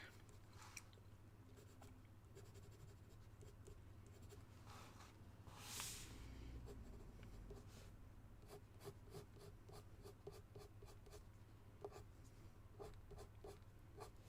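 A slightly blunt pencil colours on paper with steady, close scratchy strokes in a quick rhythm, faint and continuous over a low background hum.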